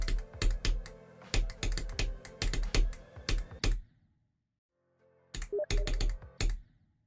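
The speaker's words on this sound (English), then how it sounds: "Try typing something on Steam." Rapid keystrokes on a computer keyboard come in two bursts with a quiet gap between, the clacks crisp and close, with no one speaking.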